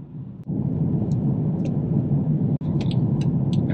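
A car rolls down a hill on a Dartmouth, Nova Scotia road at about 49 km/h with the brake applied, giving a steady road and engine rumble heard from inside the cabin, broken by two brief dropouts.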